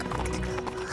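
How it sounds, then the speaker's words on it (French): Galloping horse sound effect, quick clip-clop hoofbeats with a brief whinny over a busy backing of music, loud and close for about a second. "Et je galope sur mon cheval."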